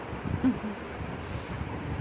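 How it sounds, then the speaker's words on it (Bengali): Strong wind buffets the microphone in a low, continuous rumbling roar with gentle gusts, without any speech. "খুব হাওয়া দিচ্ছে"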